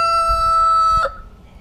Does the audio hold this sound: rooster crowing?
yes